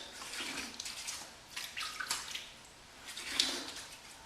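Tap water splashes and runs briefly over a Bluebeard's Revenge Scimitar safety razor during a shave, a close hissing rinse with small surges and splashes, steady and alone without speech.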